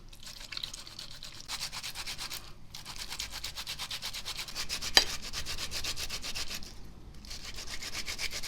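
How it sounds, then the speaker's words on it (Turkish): Tomatoes rubbed against a grater for a Turkish dried okra and meat stew, a steady scraping rasp in repeated strokes with short pauses, close and moderately loud with no talking. "Şimdi rende yapıyorum."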